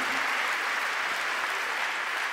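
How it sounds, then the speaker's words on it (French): A crowd applauds visitors from Saint Petersburg at a French evangelisation gathering, a dense, steady wash of clapping that holds evenly for the whole stretch without voices. "On peut les applaudir bien fort."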